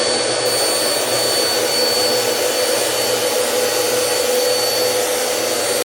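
Bissell CleanView Swivel Rewind Pet upright bagless vacuum running on carpet, a steady loud whirring roar with a high whine, continuous and close with no talk.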